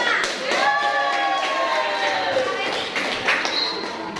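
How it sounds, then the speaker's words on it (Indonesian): A classroom gives a round of applause for a student group, with scattered claps under overlapping children's voices and chatter. "Beri tepuk tangan untuk kelompok 5."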